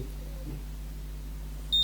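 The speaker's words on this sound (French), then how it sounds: "Vous entendez les bip bip?" A quiet low hum runs throughout, then a Babyliss Curl Secret hair curler gives a single short, high-pitched electronic beep near the end.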